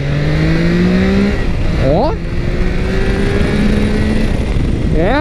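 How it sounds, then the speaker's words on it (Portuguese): Triumph Tiger Sport 660 motorcycle pulling hard in second gear, its engine note rising loud and close with upward sweeps as it accelerates, a brief shout over the top. "Eu vou tentar acelerar aqui de segunda."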